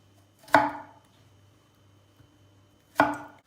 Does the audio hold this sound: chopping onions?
yes